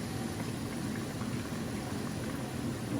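Curry with bay leaf and green chili bubbling in a pot, a steady low simmering rumble with a soft hiss that stays even throughout, with no talking.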